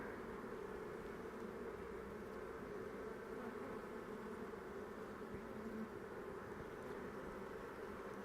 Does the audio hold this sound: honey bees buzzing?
yes